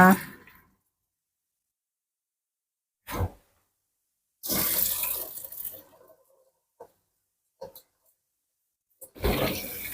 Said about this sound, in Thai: เปิดน้ำล้างแบบผ่านๆอีกรอบหนึ่งนะคะ